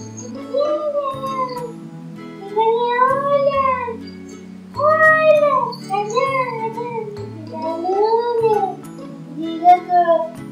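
A three-year-old chihuahua gives a series of drawn-out, whining howls that rise and fall in pitch, close and fairly loud, with short pauses between the cries and no talking.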